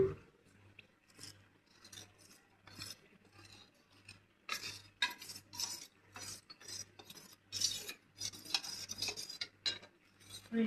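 Spoon stirring two spoonfuls of cornflour with a little water in a small bowl, quick repeated scraping and clinking strokes, close and fairly soft, growing busier and louder midway, with a low steady hum behind.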